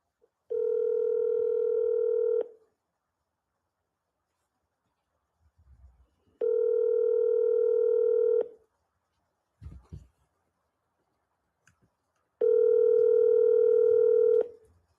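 A telephone call tone of the kind heard before a call is forwarded to voicemail: three long steady tones, about two seconds each, separated by pauses with faint soft noises between them and no talking.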